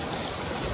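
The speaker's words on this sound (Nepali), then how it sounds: "यहाँबाट फेरि पानी बगेर तल जाँदैछ" Water flowing steadily between rainbow trout farm ponds in Kaski, Nepal, a close, continuous broadband rush with no voices.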